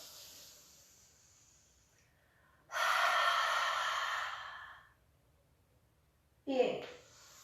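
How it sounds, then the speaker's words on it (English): Nasal inhales and exhales during seated chair yoga breathing: a long, steady airy draw through the nose that fades out, followed by a shorter, sharper breath near the end, close and fairly soft in a quiet room. "Inhale through the nose."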